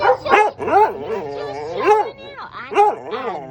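A rescue dog at an animal rescue in Jasper, Texas fusses with whimpering yips and short barks in repeated close bursts, under a voice speaking to it.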